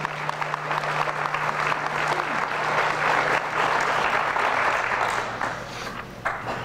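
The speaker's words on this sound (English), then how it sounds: "How about a round of applause for all the team?" Audience applause for the teams at an It's Academic high school quiz show, sustained dense clapping filling the room from start to finish with a steady background hum, fading slightly near the end.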